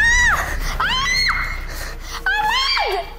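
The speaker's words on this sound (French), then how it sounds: "elle crie, les gars." A girl screams loudly and shrilly at close range in three long strained bursts with gasping breaths between them, with no other voices.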